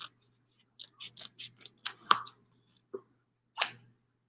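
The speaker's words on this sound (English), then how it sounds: "cardboard is really annoying to cut" Scissors snipping through craft cardboard, a run of short crisp cuts followed by two separate snips after pauses, close and clear with no talking.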